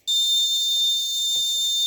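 An RFID access-control alarm triggered by a wrong card: a loud, steady high-pitched electronic buzzer sounds continuously after a sudden start, with faint low clicks beneath it.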